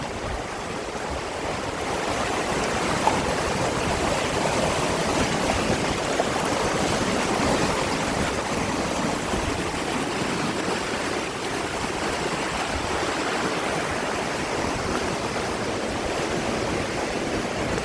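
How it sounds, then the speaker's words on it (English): Rushing storm water pours steadily along the concrete channel of the Los Angeles River, a dense, continuous broadband roar heard close and loud, unbroken throughout with no voices. "That water's sound is relaxing."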